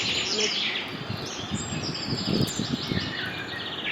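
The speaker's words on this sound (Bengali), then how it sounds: "পাখির ডাকে কিচমিচ কিচমিচ করছে চারিদিকটা।" Many birds chirp and call all around an island at dusk, a dense, continuous twittering chorus with bursts of nearer calls and no talking.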